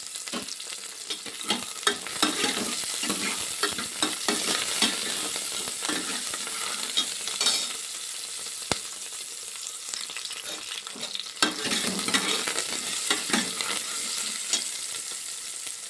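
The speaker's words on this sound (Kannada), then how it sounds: "ಅದಾದಮೇಲೆ ಚಕ್ಕೆ, ಲವಂಗ ಆ್ಯಡ್ ಮಾಡ್ಕೊತಾ ಇದ್ದೀನಿ." Cinnamon sticks and cloves sizzle in a hot pan for a village-style hyacinth bean curry, with steady close frying crackle and the scrape of stirring throughout.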